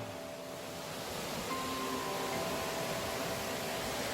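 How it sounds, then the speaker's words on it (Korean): Waterfall beside the hiking trail up Gombaeryeong on Jeombongsan, a three-tiered cascade, gives a steady broadband rush of falling water, close and constant, with no talk. "여기가 곰배령 올라가는데 첫 번째 폭포입니다."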